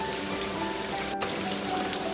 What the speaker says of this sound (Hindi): बज्जू बारिश में भीग रहा था